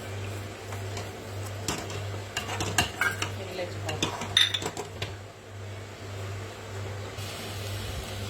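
Milk powder being stirred into milk in a pan, spoon clinking and scraping against the metal in an irregular burst of knocks, close by over a constant low hum.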